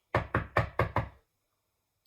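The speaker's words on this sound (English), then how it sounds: "the girl knocked on the door of the headmistress's study" Five quick, firm knocks on a wooden door in an even rhythm, close and clear, followed by near silence.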